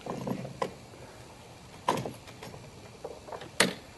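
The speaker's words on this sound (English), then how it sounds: "Then it helps to take your vice grips." Vice grips clamp onto the bolts of a pool slide during installation, giving a few sharp metallic clicks and clanks with quiet gaps between them, close and fairly faint.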